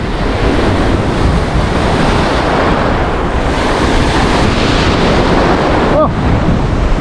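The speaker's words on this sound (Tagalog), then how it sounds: "lakas ng alon" Strong sea waves churn and crash on a windy day, a loud, continuous surging rush with heavy wind buffeting the microphone.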